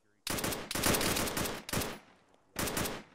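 Arma 3 gunfire: sustained automatic bursts roar close and loud in three long strings, with a short gap before a final burst, and muffled radio chatter faintly behind them.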